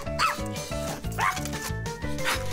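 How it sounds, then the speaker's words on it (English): A cartoon dog yaps and barks in short, excited bursts, close and loud, over a busy musical score in a children's animated series. "I don't know what she's barking about"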